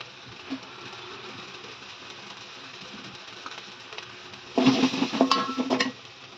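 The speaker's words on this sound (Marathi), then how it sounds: "वाटण टाकलं चांगलं परतून घ्यायचं" Ground masala paste for chicken rassa stirred and fried in a pan, a low steady sizzle with scraping, then louder clattering stirring strokes near the end.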